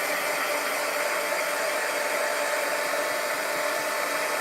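Hair dryer blowing steadily to dry a painting, a constant loud whooshing hiss with no change for several seconds and no talking.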